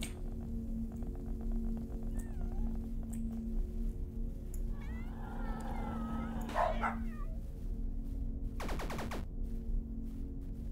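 Several cats meow in the horror video game Bark, faint, brief calls scattered over a steady low background drone, with a louder cry near the middle.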